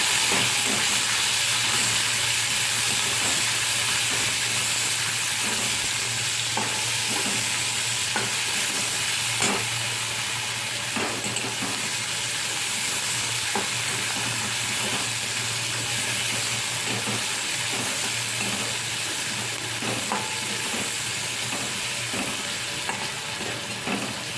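Onions sizzle loudly in a pan for a pumpkin and prawn dish, a continuous hissing fry with repeated scraping stirs of a spatula, close and constant, no talking.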